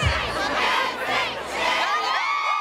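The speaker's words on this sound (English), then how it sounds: "The crowd's pumped up, but right now the ceremony's about to begin." Enthusiastic fans cheer and shout loudly and continuously outside an NSYNC Hollywood Walk of Fame star ceremony, a dense crowd roar with whoops rising and falling throughout.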